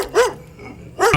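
A dog gives two sharp barks close by, the first at the start and the second after a short pause, with nothing else between them.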